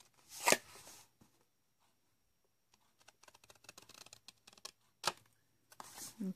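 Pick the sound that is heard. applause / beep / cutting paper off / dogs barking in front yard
cutting paper off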